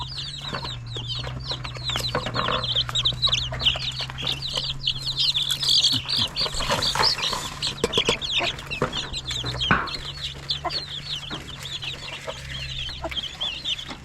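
Native chickens, a mother hen with her chicks, cluck and chirp continuously nearby, a busy overlapping chorus with occasional rustling and a low hum in the background.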